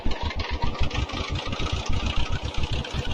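Piston engine of a Cessna 310 in a flight simulator running steadily, a loud, close, rhythmic chugging throb with a constant drone.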